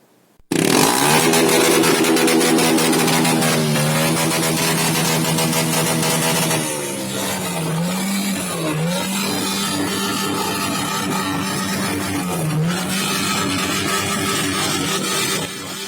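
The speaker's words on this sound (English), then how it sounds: "Bikers today paid special tribute to their beloved Alberto Dyandre Chee by revving their motorcycles" Several motorcycles rev loudly together in a funeral tribute, making a dense, continuous engine roar with rising and falling revs that fills the whole stretch without letup.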